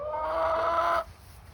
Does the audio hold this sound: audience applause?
no